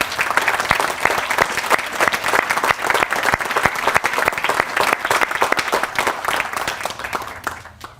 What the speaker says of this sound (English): Let's recognize their contribution to your success by giving them a fine round of applause.